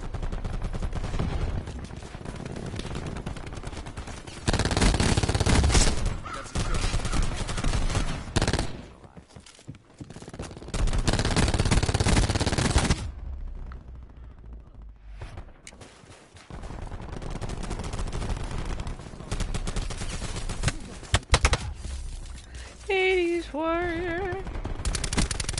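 Automatic weapon fire in the video game Black Ops 4, heard as close, loud bursts of rapid shots separated by short quiet gaps, with a brief electronic warble near the end.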